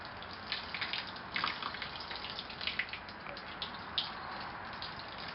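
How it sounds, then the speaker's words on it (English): Gentle steady water trickles from a watering wand onto small transplanted wild Eastern Red Cedar seedlings, a soft continuous spray with light splashing pulses, close and alone. "here's a little watering wand that I use. I turn it on"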